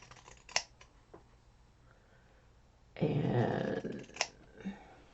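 Scissors cut through fabric in one short, crisp rasping slice, close and fairly quiet, with a few small clicks around it in an otherwise quiet room.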